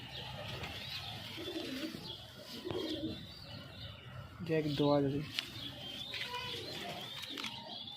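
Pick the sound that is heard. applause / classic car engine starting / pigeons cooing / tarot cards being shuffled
pigeons cooing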